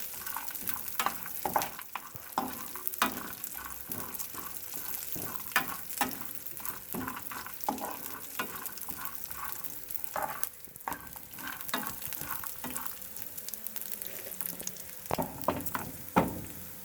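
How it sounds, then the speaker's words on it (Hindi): Twelve almonds dry-roasting in a pan with a couple of cardamom pods, a steady close sizzle broken by frequent scraping and stirring clatters throughout, no voices. "बादाम लिए हैं मैंने 12 अदद। अब हम इसे अच्छे से भून लेंगे।"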